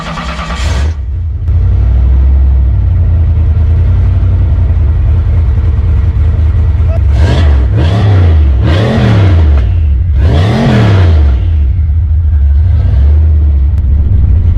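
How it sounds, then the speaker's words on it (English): A turbocharged car engine cranks, starts and settles into a loud, steady idle, then revs up sharply three times in quick succession before dropping back, with a deep, close exhaust sound. "We're gonna get some exhaust sounds from this turbo real quick, guys."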